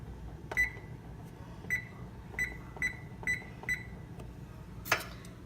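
Oven control panel beeping as the preheat temperature is set to 325 degrees: six short, clear electronic beeps at a steady, slightly uneven pace, then a brief click, close by over a quiet kitchen background.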